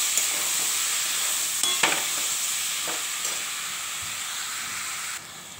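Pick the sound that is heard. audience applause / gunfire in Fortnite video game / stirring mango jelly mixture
stirring mango jelly mixture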